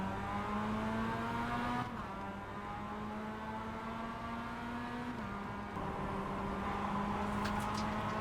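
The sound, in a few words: race cars starting a race in a racing video game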